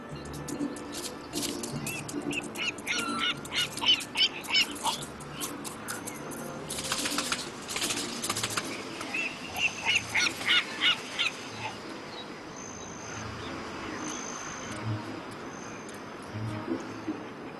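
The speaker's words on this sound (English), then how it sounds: "Thousands of birds carpet this place to gain weight before their migrations." A large flock of migrating birds, geese and gulls among them, feeding on a lake mudflat gives repeated honking calls and chatter from middle distance, rising and falling in bursts over a steady outdoor background.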